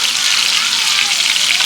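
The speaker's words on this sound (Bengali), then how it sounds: "সৌমি যে মাছটা ভাজছে" Fish coated in Konkani masala sizzles in hot oil, a loud, close, continuous crackling hiss with no pauses.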